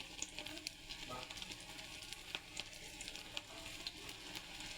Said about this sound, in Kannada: ಸೊ ಎಣ್ಣೆ ಕೂಡ ಕಾದಿದೆ. ಒಂದೊಂದೇ ಹಾಕ್ಕೊಳ್ಳೋಣ.